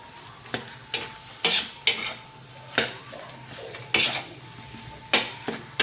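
A spoon scrapes and stirs dried red chili paste in a frying pan while cooking pav bhaji: about eight sharp, evenly spaced strokes over a soft sizzle, close and without talk.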